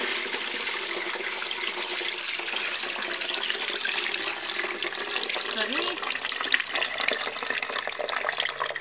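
Water poured off millet while washing it, a continuous rushing splash that stays steady and close for several seconds.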